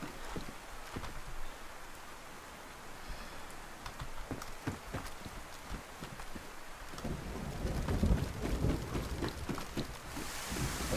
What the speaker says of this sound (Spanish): Si no lo saben, antiguamente había truenos en DayZ, pero con todas las actualizaciones los han quitado y ahora pues los acaban de volver a meter